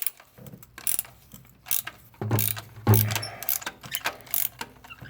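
A ratchet wrench loosens a spark plug on a 2006 Toyota Tacoma 2.7 liter engine, with close, crisp clicking bursts and a few heavier clunks in an uneven rhythm and no talk.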